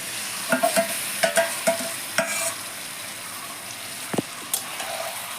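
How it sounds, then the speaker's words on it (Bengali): Marinated chicken dropped into hot masala in a pan for Kolkata-style chicken kosha, giving bursts of sizzling and frying with stirring scrapes, close and moderately loud, with no talk. "এবার আমি ম্যারিনেট করে রেখেছিলাম যে চিকেনটাকে 1 ঘন্টা ধরে, সেটাকে এর মধ্যে আমি ছেড়ে দিচ্ছি।"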